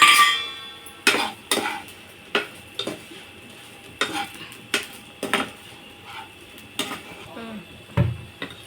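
Raw plantain fry with coconut chili powder being stirred in a pan, a spoon scraping and clanking against the metal in a run of regular knocks over a low sizzle, close up with no talk.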